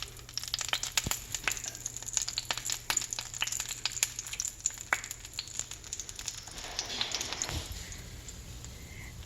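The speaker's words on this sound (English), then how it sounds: "add a couple of spoons of batter to the oil." Spoonfuls of jalapeno cornbread batter frying in hot oil, a quiet, steady crackling sizzle with scattered pops and spits, no voices.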